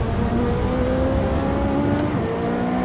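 Race car engine in Assetto Corsa during a career-mode race, a loud, sustained engine tone with rising and shifting pitch as it revs and accelerates close up.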